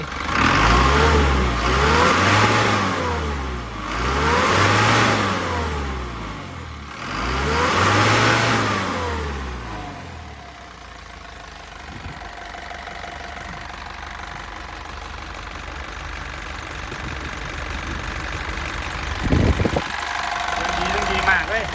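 Isuzu NPR 130 hp truck engine revving in three strong swells for about ten seconds, then dropping back to a steady rumbling idle with a brief louder burst near the end.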